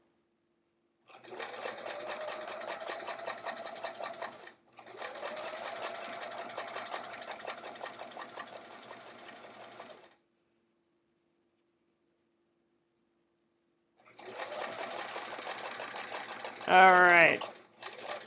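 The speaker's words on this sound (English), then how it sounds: "So I am sewing at that 1/2 inch mark again." A sewing machine stitches through thick layers of fabric in long steady runs, close and moderately loud, broken by pauses, then a short burst with a rising whir near the end. A voice speaks briefly.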